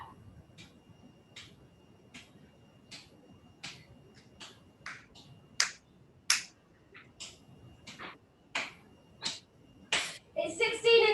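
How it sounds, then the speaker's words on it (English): Sharp, evenly spaced hand claps during an exercise class, starting soft and sparse and growing louder and quicker toward the end, with a faint voice underneath in places. "Clap, clap."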